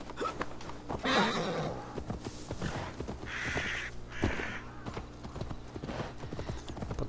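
A horse in Assassin's Creed Valhalla clip-clops along with steady hoofbeats and lets out a couple of whinnies, over low game ambience and no talk.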